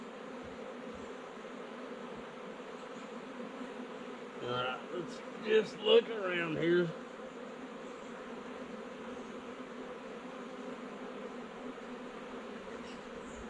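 Honey bees, drones among them, from a wild colony in a storm-felled tree, buzzing in a faint steady drone with a few louder close passes near the middle. A voice speaks briefly.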